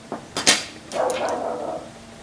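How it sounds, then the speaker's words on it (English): A pet dog barks indoors, a few short sharp yips followed by a longer drawn-out whining bark, close and fairly loud, with no one speaking. "He's barking to anyone or anything."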